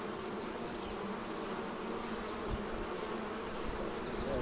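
A dense, steady buzzing drone of many honeybees flying close by at a hive entrance, continuous throughout with no voices.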